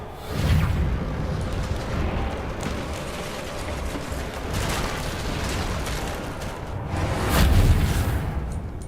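A Bombarda spell explosion in the video game Hogwarts Legacy: heavy booming blasts with rumbling, whooshing debris, one loud burst near the start and another surge toward the end, over continuous rough low noise.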